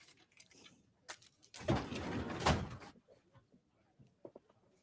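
A drawer slides open with a rough, rumbling scrape lasting about a second, followed by a few soft knocks and small clunks of items inside, close by in a quiet room.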